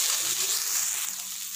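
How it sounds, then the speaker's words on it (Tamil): Sliced okra sautéing with only salt in a pan, an even close sizzle of oil with faint stirring movement, steady throughout the short stretch. "வெறும் உப்பு மட்டும்தான் போட்டு நம்ம இப்போ வதக்கிட்டுருக்கோம்."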